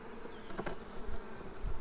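Honey bees buzz steadily over a brood comb lifted from a hive during horizontal brood nest expansion, a close, continuous drone with a few brief louder swells.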